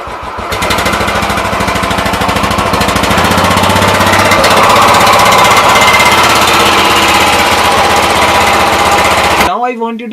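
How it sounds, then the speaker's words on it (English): Royal Enfield Bullet motorcycle running on its company-fitted stock silencer, a steady loud thumping exhaust drone held for about nine seconds before cutting off abruptly. "So this is the actual sound of Royal Enfield."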